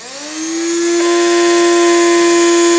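An electric coffee grinder grinds plant material, spinning up from start into a steady, loud, high whine that holds constant and close with no talking.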